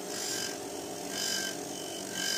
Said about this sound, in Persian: خب اول با یه اسکاچ سنباده زبر شروع میکنیم به پرداخت کردن